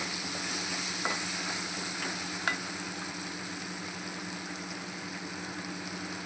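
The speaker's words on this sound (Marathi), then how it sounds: "मस्त असा कांदा टोमॅटो आपला शिजलेला आहे। आता यात आपण मसाले घालून घेऊ।" Masala is stirred into cooked onion and tomato in a pan for Maharashtrian-style baingan bharta, a steady close sizzle with faint scraping stirs throughout.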